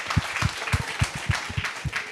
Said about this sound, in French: Kael, on l'applaudit.